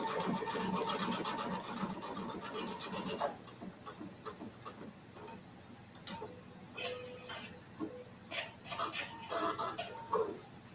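A sewing machine stitches a small pictogram flower in quick, even runs of ticking stitches, a dense close burst at first, then shorter separated bursts with brief pauses between them.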